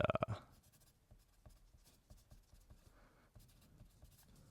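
A Musgrave Red wooden HB pencil writes on paper, with a few sharp taps at the start followed by soft, intermittent graphite scratches and strokes, close and quiet.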